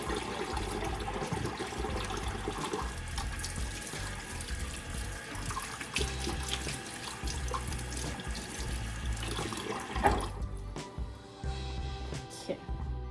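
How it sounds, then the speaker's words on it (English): A kitchen tap runs steadily into a sink while hands are washed, giving a continuous close splashing rush that cuts off near the end, leaving faint dripping and quiet room tone. "What I'm gonna do first is just wash my hands."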